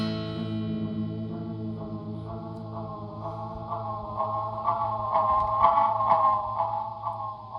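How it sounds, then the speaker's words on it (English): Guitar pedal pushed into feedback and self-oscillation, played through a Fender black or silver face amp, producing sustained, swelling, warbling tones that grow louder toward the end, heard alone without talk. "Yeah, you definitely still get the self oscillations"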